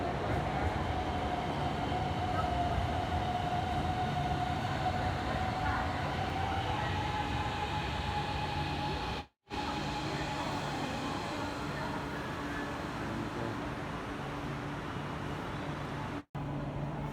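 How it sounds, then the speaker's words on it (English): The Hanoi Sky Train metro on a test run, heard from inside as a steady, loud rumbling roar with wheel and motor hum throughout, broken by two very brief dropouts. "So this is our first experience on Hanoi Sky Train."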